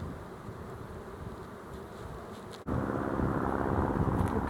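Honey bees buzz around an open hive, a dense, continuous swarm hum close by, with individual bees droning past the listener and the buzzing swelling louder partway through.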